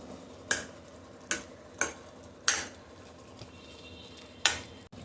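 Spicy Maggi noodles with butter being stirred in a pan, a quiet background sizzle broken by several sharp spoon knocks against the pan at irregular intervals, close, with no talk.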